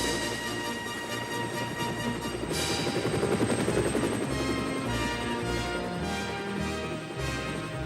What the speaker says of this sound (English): There, ready for action, was Harold the helicopter.